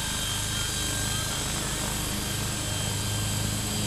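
A scale RC helicopter with a DJI Wookong-S flight controller holds a steady hover, giving a continuous, loud, even rotor and motor drone throughout.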